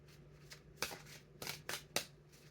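Several sharp riffling bursts of cards being shuffled, close and fairly quiet, with short pauses between them and no talking.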